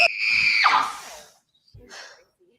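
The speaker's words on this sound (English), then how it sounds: "I just want to fucking scream." A person lets out a loud, strained scream of frustration that breaks off sharply, followed by a quieter, breathy vocal sound after a brief pause.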